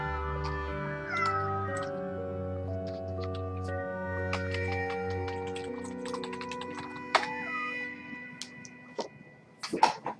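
A house cat meows several times close by, over soft layered electronic game music and bursts of computer keyboard typing.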